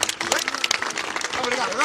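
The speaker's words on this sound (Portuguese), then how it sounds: "Uma salva de palmas para elas." Audience clapping at a medieval fair opening show, scattered claps mixed with crowd voices and chatter over about two seconds, fairly loud and busy.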